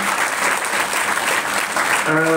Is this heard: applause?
yes